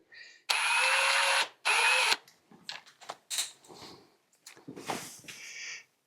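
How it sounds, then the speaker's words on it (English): A countersink bit in a power drill deburrs a freshly drilled hole in a fork brace for a Honda Rebel 250, with two loud, steady whirring bursts followed by quieter scraping and handling noises. "Briefly hit it with the countersink just to deburr it a little bit."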